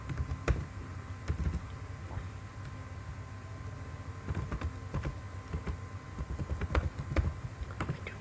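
Someone types text on a computer keyboard, with quick irregular key clicks and occasional louder taps over a steady low background hum.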